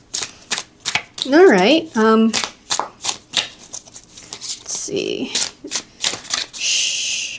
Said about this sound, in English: Overhand shuffling.